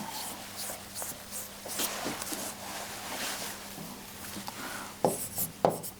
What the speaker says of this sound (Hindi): और बंगाल की खाड़ी यहां लिख देता हूं